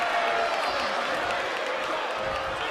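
Crowd in a WWE wrestling video game roars in a dense, continuous wash of cheering and applause, loud and unbroken throughout.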